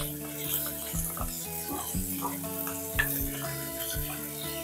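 Chopped onions, about two, sizzle steadily in a pan for a Kashmiri chicken yakhni pulao, a continuous close frying hiss running throughout with music underneath.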